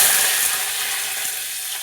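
Garlic, mustard seeds and curry leaves crackle in hot oil, a bright, dense sizzle with scattered pops that eases slightly over its short span.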